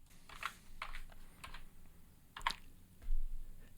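A computer keyboard types a short coordinate value: a handful of light, close keystrokes spread over a few seconds in a quiet room, with no speech.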